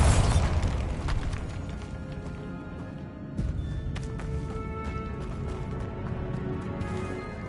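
A Bombarda blast spell goes off in Hogwarts Legacy: a loud burst at the start, followed by a crackling, rumbling wash of debris and game ambience that carries on steadily to the end.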